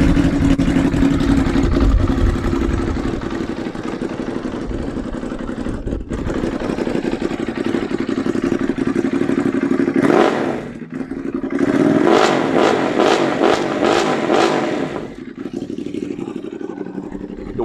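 A 2015 used car with 35,000 km on the clock and a fresh major service idles steadily, then gets several sharp revs near the end, loud and close, with no talking.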